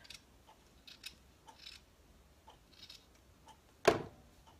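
Scissors cut excess sweater fabric in a quiet room with a few faint snips, then one sharp, louder clip near the end.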